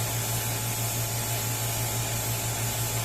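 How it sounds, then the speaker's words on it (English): A paint spray gun hisses steadily while misting paint onto a car bumper for a small blend-in repair, held about two feet away; a constant, close, even airy spray with no pauses and no voices. "I am spraying it about 2 feet away and I can barely smell the paint"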